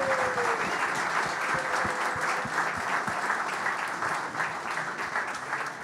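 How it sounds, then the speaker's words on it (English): Sustained applause from a conference audience at a beer industry panel talk. Many hands clap steadily and evenly for several seconds, fading slightly toward the end. "Round of applause for our first panelist."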